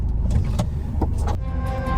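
Steady road rumble and engine drone come from inside a campervan driving through a mountain town in Poland, loud and continuous throughout with no talking.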